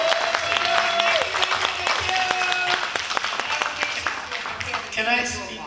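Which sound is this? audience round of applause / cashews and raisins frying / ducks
audience round of applause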